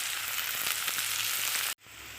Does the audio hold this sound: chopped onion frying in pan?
yes